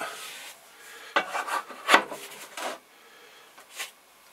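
A clay pottery piece, a sugar bowl, is trimmed with a tool, producing intermittent close scraping and rasping strokes of varying strength with quiet gaps between them.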